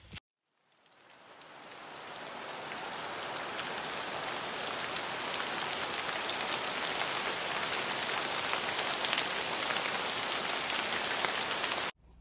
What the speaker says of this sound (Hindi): बारिश बहुत हो रही है